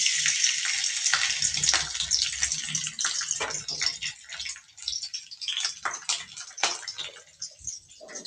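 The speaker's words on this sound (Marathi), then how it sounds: "आता तेल गरम झाल्यासारखं वाटते, आपण आता त्यात जिरे टाकून घेऊ." Cumin seeds dropped into hot oil for an okra bhaji hiss and crackle steadily, with a dense, close sizzle that spits and pops and slowly thins over several seconds.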